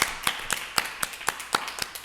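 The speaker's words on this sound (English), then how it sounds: "Let's give a round of applause for them." Clapping during a live 24-hour webathon: quiet, evenly spaced claps at a steady beat of about four per second, with no talking.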